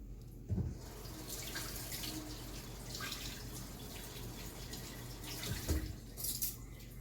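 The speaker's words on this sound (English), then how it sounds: "Rinse this off." Something is rinsed under a running kitchen tap while making Asian-style wings, with a steady, close rush of water splashing into a sink and a couple of louder splashes at the start and end.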